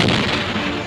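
Weapons fire in the video game Robowar as a dense burst of booming, crackling shots, loud and continuous for a moment without speech.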